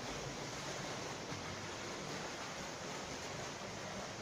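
Feet kick and splash in a swimming pool during a front crawl lesson, making a steady, continuous wash of churning water with no distinct individual splashes.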